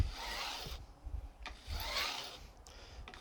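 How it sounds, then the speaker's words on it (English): Metal guitar fret wire ends are beveled with a hand tool, giving repeated rasping, rubbing strokes in uneven bursts, close and moderately loud with brief pauses between passes. "this is what I use to bevel, to give the"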